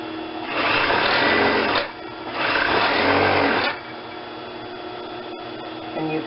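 A sewing machine chain-stitching seams, running in two loud bursts of about a second and a half each, with quieter handling sounds after it stops.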